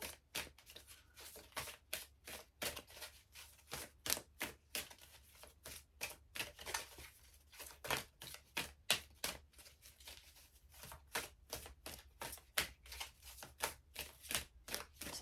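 A deck of oracle cards is shuffled steadily for about fifteen seconds, a close, crisp run of rapid riffling snaps and flutters repeating in quick bursts with no talk.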